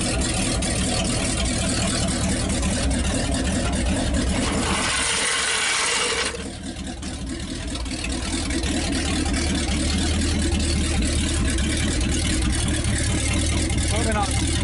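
A 1956 Studebaker Golden Hawk engine idles steadily up close, with a brief clunk and dip around the moment it is put in gear before the running resumes.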